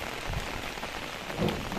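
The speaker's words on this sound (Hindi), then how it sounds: "अब थोड़ी सी बारिश कम हो गई है" Steady rain falls after a hailstorm in a village, a dense even hiss of drops on surfaces with a brief heavier patch near the end, no voices.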